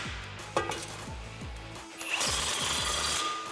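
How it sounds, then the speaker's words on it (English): An exhaust tip clamp on a 2018 Mustang GT with a Roush axle-back exhaust is tightened by tool, a close run of quick repeated ratcheting clicks followed by a steadier whirring buzz. "go ahead and tighten down this clamp"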